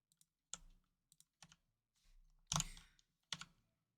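Someone typing on a computer keyboard while working in Unity, producing scattered close clicks in small bursts with uneven pauses and one heavier cluster of keystrokes.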